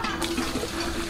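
Water gushes strongly from a hand-rotated wheel pump drawing from a deep well, a steady rushing splash filling the short moment.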